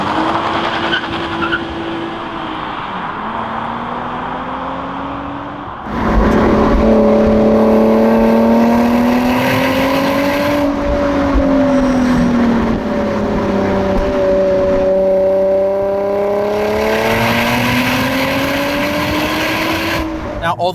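A Nissan 350Z coupe sports car driving, its engine note rising and falling through gears in a close, continuous drone with a gear change partway through, no talking over it.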